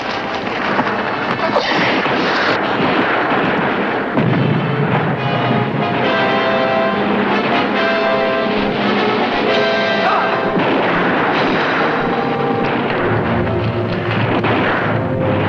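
A western battle scene during a guerrilla attack, with dense, continuous gunfire and crashing impacts layered under a loud, sustained wash of noise and music that never lets up.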